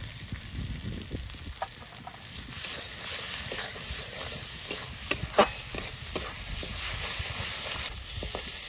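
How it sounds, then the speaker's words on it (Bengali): Spices with salt and turmeric sizzle in a pan while being stirred, a continuous frying hiss with scraping strokes and occasional sharper knocks, steady and close. "মশলা ভালো করে কষিয়ে নিয়েছি"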